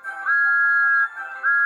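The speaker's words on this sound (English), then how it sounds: "Thomas blew his wonderful whistle." Thomas the Tank Engine's whistle blows two clear, steady tones, a long blast, a brief dip, then a second shrill blast, loud and close.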